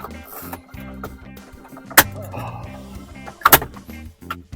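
Plastic trim clips around the radio of a Chevy Colorado being pried loose, with irregular creaks and scrapes of plastic and two sharp cracking pops as pieces snap free, close and loud.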